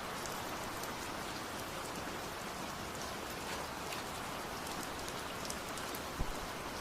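Steady rain falls on a rainy night, a dense, even hiss of drops hitting surfaces close by with no pauses, and a single small knock near the end.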